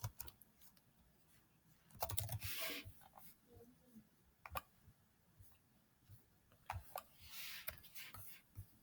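Soft, scattered keystrokes and clicks on a computer keyboard as a book title is entered into a classroom library checkout system, faint and close with irregular pauses.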